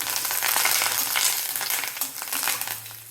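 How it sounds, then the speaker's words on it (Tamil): Dried red chillies, mustard seeds and asafoetida fry in hot oil as a tempering for a small-onion buttermilk curry. A loud, steady, close sizzle hisses throughout, with faint crackles and no talking. "சின்னதாக ஒரு ரெண்டு காஞ்ச மிளகாய் அடுத்தது கடுகப்பில் அடுத்தது பெருங்காயம் பெருங்காயம் போட்டுட்டு நல்லா வதக்கணும்"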